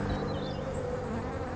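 Honeybees buzz around an open hive during an inspection, a dense, steady close-up hum with individual bees droning past, no voices.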